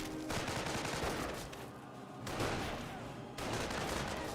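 MG42 machine gun fire in the World War II strategy game Company of Heroes, dense rapid bursts of gunfire with short gaps between volleys, loud and continuous with no talking over it.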